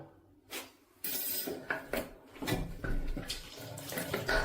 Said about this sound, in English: I think the water's actually still on.